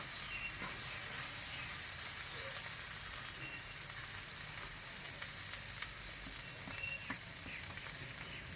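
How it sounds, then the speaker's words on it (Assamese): Onion pakora with small shrimp frying in a wok, giving a steady, close sizzle with a faint crackle throughout and no voices. "ধুনীয়াকৈ ভাজি আছোঁ কেৰাহীত এতিয়া"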